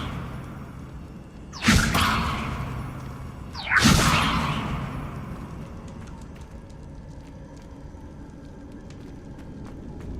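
Levioso levitation spell in Hogwarts Legacy, two sharp rising whooshes about two seconds apart, each trailing off into a soft hiss, with faint clicks afterward.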